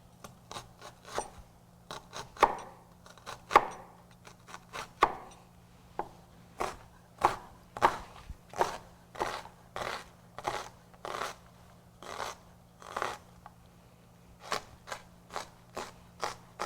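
Knife chopping fresh carrots on a cutting board for carrot soup, a long run of crisp, evenly spaced chops close by, steady and rhythmic with a brief pause partway, no talking.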